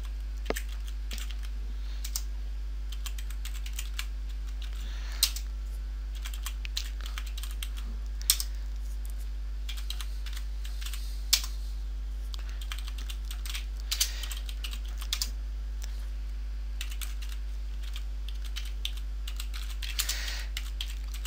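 Typing on a computer keyboard: irregular bursts of soft key clicks close by, with occasional louder taps over a steady low electrical hum, no voices.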